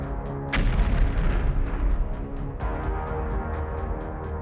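A drone-dropped explosive blows up in combat with a sudden loud boom and broadband blast. A rumbling tail follows, and a faint regular ticking and a second lesser thud come after it. No voices are heard.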